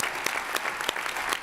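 Audience applause at a medical conference on direct primary care practices, a steady dense wash of clapping with a few louder bursts, continuous and fairly close throughout.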